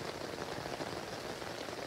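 Light rain patters steadily on a camping tent tarp, a soft, even wash of tiny droplet taps with no voices, close and continuous throughout.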